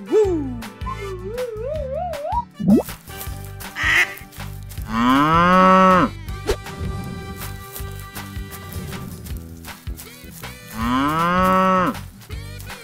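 Cartoonish cow moos, loud and close, come in several drawn-out calls, some wobbling in pitch, mixed with playful sound effects and music.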